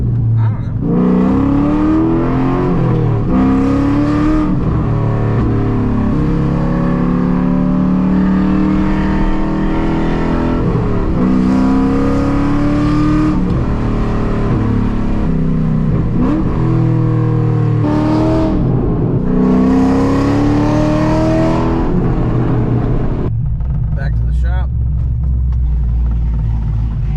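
A loud, lowered Corvette with an aggressive cam drives past and away, its engine a deep, throaty rumble that rises and falls through repeated revs and gear changes, steady and close throughout.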